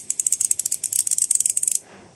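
An Asahi Japanese ratchet handle spinning through its spring and pawl, a fast, dense stream of crisp metallic clicks for nearly two seconds, close and alone, then stopping abruptly.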